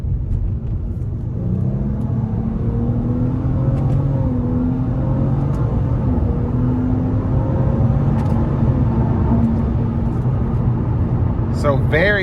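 A 2015 Nissan Altima 3.5 SL V6 under full throttle: a loud, steady cabin rumble of engine and road noise throughout, with faint rising engine tones beneath it.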